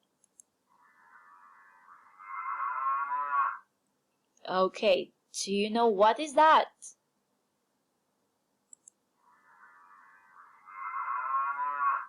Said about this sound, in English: a cow mooing is an example of a low sound